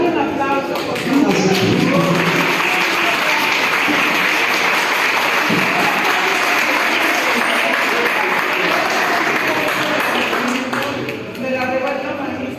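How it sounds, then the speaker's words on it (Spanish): An audience at a humanist cultural event applauds an artist and cultural manager, with steady, dense clapping that builds and holds at full volume, thinning slightly near the end, with a voice briefly heard under it. "Vamos a darle un aplauso, por favor."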